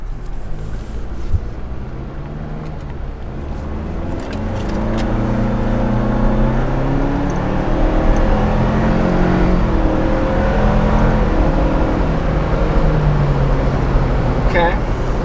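Ford Bronco accelerating from a slow roll, its engine and road noise building into a steady, loud drone with a rising low rumble.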